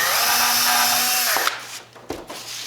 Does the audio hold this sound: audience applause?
no